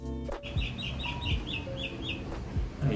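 Small birds chirp in quick, repeated high bursts against a soft steady wash of falling rain, all fairly faint and distant.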